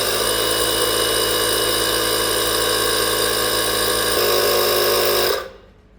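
A HYCHIKA cordless 18V air compressor tire inflator runs with a loud, steady mechanical drone and buzzing whine, shifts pitch slightly near the end, then shuts off abruptly into silence.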